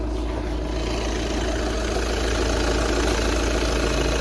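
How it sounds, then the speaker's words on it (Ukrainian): The diesel engine of a warmed-up 2013 Volkswagen Touran 2.0 TDI (177 hp) idles steadily, a smooth, even low hum with no revving and no voices. "Мотор працює гарно, тихо."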